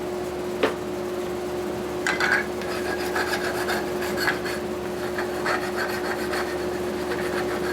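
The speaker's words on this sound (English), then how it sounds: "Deburring." A hand file deburrs a metal motorcycle engine part, giving soft, irregular scraping strokes over a steady background hum, close and moderately loud.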